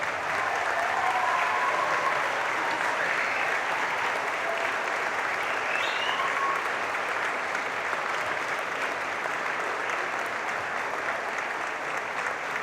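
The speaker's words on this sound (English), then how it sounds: "Please stand up and give everybody a round of applause and some cheers." Graduates, family and friends applaud at a Sport and Exercise Science graduation ceremony. The clapping is sustained and fairly distant, with a few scattered cheers and whistles rising above a roomful of hands.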